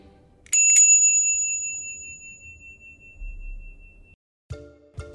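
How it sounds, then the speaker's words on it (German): A bicycle bell gives two quick, bright rings that hang and slowly fade, with a soft low thump later and two short metallic dings at the end. "Wie diese Klingel hier."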